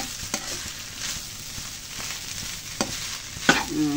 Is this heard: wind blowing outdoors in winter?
no